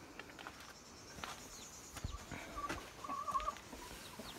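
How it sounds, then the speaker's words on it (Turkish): Chickens and newly hatched chicks on a small farm give soft, scattered clucks and a few high peeps, faint and intermittent against quiet outdoor background, with no talk. "Bir de civcivlerimiz var böyle."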